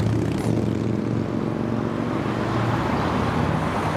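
A Porsche 997 Carrera S drives past at a car show, a loud, steady engine roar with broadband road noise filling the whole moment, close by and with no talking.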